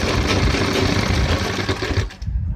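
Sewing machine running steadily while stitching the fly of men's formal trousers, a dense continuous whirr that stops abruptly near the end, leaving a few faint handling sounds.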